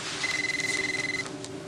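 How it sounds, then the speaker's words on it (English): A phone rings once with a steady electronic tone lasting about a second, fairly quiet over a room's background hiss, with no talking. "Wait a minute. It's my phone."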